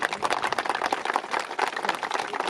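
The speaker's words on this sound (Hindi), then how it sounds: "थोड़ा एक बार कस के ताली बजाइए" Dense, continuous applause from a large crowd at an outdoor political election rally, steady clapping filling the whole stretch without a break.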